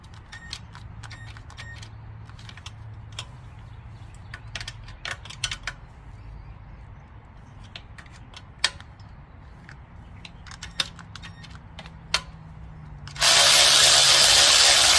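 A wrench works a 13mm bolt on a Monster Moto mini bike engine, giving scattered sharp metallic ticks and ratchet clicks over a low hum, then a sudden loud burst of noise at the end.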